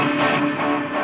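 A MOOER Echoverb pedal's reverb with the tone control turned way up, giving a bright, airy wash that sustains steadily for about a second, loud and alone with no talking.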